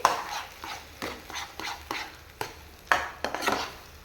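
A spoon repeatedly stirs and scrapes through a pani puri mixture frying in oil in a home kitchen, giving soft irregular clinks and scrapes over a faint background hiss.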